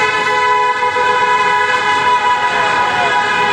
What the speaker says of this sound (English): That was a timely honk right there.